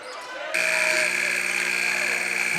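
A loud, steady end-of-quarter buzzer cuts in half a second in and holds to the end at a high school varsity boys basketball playoff game, Poultney vs Long Trail, after a commentator's voice.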